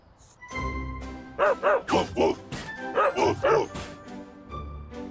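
A dog barking in a quick series of sharp, close barks, grouped in two bursts over a steady musical background.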